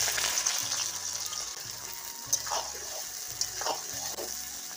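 Onion with cardamom, cloves and cinnamon crackles in hot oil in a wok at an outdoor picnic, a soft steady sizzle broken by a few sharper pops and spatters.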